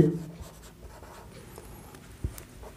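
Pen strokes on paper while writing out a geometry construction about circles, a soft continuous scratching with small taps, fairly close and quiet.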